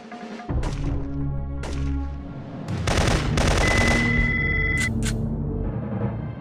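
Gunfire in the PS1 game Syphon Filter 3 during a sniper attack: a loud close burst of rapid shots, then sustained crackling fire with a ringing electronic tone over it.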